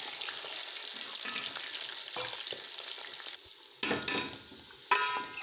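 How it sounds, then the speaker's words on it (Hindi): Potatoes fry in a pan for egg and potato pulao: a steady close sizzle with scraping stirs and a few louder clattering hits of a spoon against the pan. "इसको अच्छी तरह से ऐसे 2 मिनट फ्राई करेंगे"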